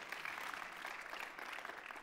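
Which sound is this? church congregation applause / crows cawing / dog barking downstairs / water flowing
church congregation applause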